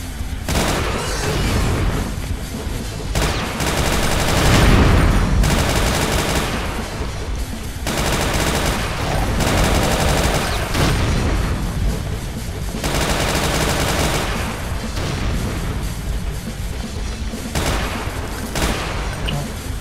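Relentless gunfire in Brutal Doom, played on the FreeDoom E3M8 Ancient Lair level, with rapid automatic bursts and heavy booms that are loud, dense and close almost without pause.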